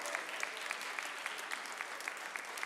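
An audience applauds a poet at a 2016 slam poetry competition, steady dense clapping filling the whole stretch with no voices.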